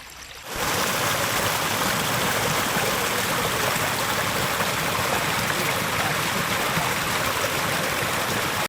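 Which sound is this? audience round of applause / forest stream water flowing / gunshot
forest stream water flowing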